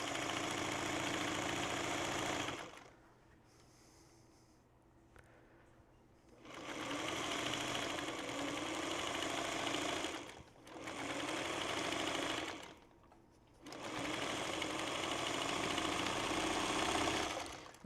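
A sewing machine stitches fabric with back stitching in three loud, steady bursts, with short pauses between runs and no talking.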